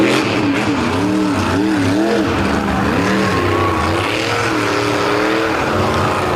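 A monster truck engine revs hard during a freestyle jump at a beach show, loud and close, with a rising and falling roar and repeated throttle swells over crowd noise.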